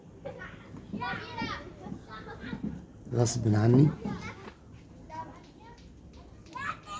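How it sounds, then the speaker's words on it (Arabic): Children play in a street outside, their shouts and chatter rising and falling at a moderate distance beneath someone speaking nearby. "بتأسف على صوت الأطفال اللي في الشارع"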